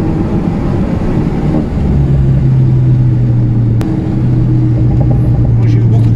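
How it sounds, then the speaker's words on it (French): An Alpine A110 on the road lets out a single sharp exhaust pop that cracks over a loud, steady engine drone, heard from close by. "petit retour d'échappement"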